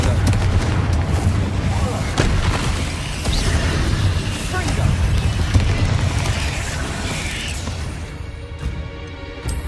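Confringo spell explosions burst in the Hogwarts Legacy video game, a dense rumbling barrage of booms and impacts from spellcasting combat, continuous and loud, with no voices.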